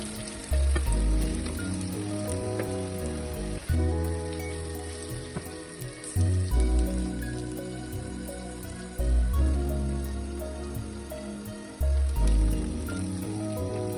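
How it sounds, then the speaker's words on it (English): About 200 grams of potato cubes frying in a pan for an aloo curry, a continuous sizzle under loud background music with a steady beat, close and fairly loud throughout. "Add 200 grams potato cubes. Cook the potatoes for 4 to 5 minutes."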